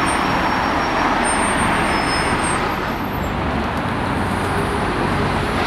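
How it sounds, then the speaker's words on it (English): Buses and cars rushing past a churchyard at a busy crossroads on Station Road, Edgware, a steady moderate roadway hum with passing vehicle swells and no voices. "the large number of buses and cars that are rushing past the churchyard every day"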